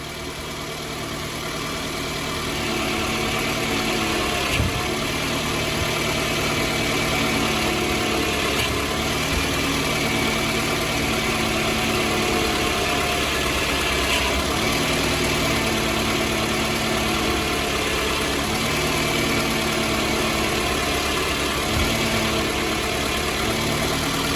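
A 2007 Toyota Camry engine idles steadily during power steering bleeding after hose replacement, a constant low rumble and hum with a few faint clicks, no talking.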